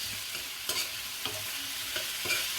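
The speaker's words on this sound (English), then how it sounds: "Then I'm going to stir that in." Ingredients stirred in a pan while preparing steamed fish, with a spoon scraping and knocking against the pan a few times over a soft, continuous sizzle, no talking.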